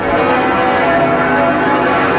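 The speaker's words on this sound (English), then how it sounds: "The bells are deafening." Dense, sustained clangor of Notre Dame Cathedral's large bells ringing together, loud and continuous with a rich wash of overlapping tones and no voices.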